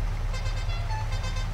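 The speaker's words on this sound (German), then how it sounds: "Hupe." A Mercedes-Benz Arocs SLT truck horn in Farming Simulator 22 sounds in a sustained blare over a low, steady engine rumble.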